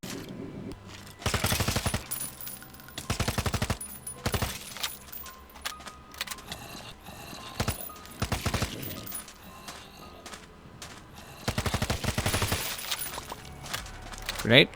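Video game SMG gunfire comes in repeated rapid bursts of close, loud automatic shots, several sustained strings with shorter pops and clinks between them. A voice talks faintly underneath.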